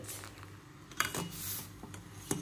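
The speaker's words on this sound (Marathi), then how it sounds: "असं हलवत राहायचं. हलवलं नाही तर मग काय तर गाठी व्हायला लागतं." A spoon stirs jowar ambil, a sorghum porridge, in a pot, giving quiet scraping strokes and a few sharp metallic taps against the rim, close and soft, with no voices.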